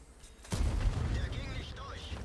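A tank cannon fires in World of Tanks, one sudden heavy boom followed by a rumbling tail and faint in-game whistles and noises.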